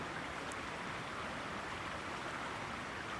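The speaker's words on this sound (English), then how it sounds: "here's this river right over here. You can hear it and maybe see it a little bit." A river running high across farmland after flooding gives a steady, broad rushing of water, continuous and fairly faint, with no voices.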